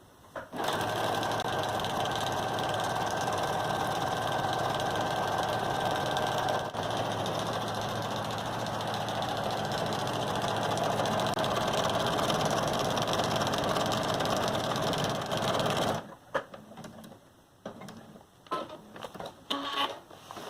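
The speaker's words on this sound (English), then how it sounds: "on your sewing machine, we're going to do a zigzag stitch" A sewing machine zigzag-stitches a feed bag for about sixteen seconds in a loud mechanical whir, then stops, leaving a few scattered clicks and handling noises.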